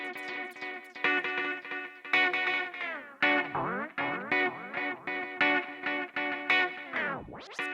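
Synth notes repeat in a steady pattern, each followed by swooping, pitch-bending echo tails from a u-he Satin delay without tempo sync, smearing into the next note, moderately loud.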